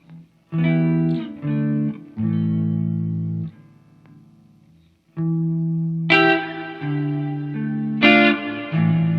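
Clean electric guitar chords ring out in several sustained strums with brief gaps, the later ones brighter and more forceful.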